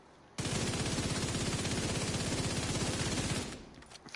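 Rapid automatic gunfire from a 990-rounds-per-minute rifle in Tom Clancy's The Division 2, one continuous loud burst of tightly spaced shots lasting about three seconds, then stopping abruptly.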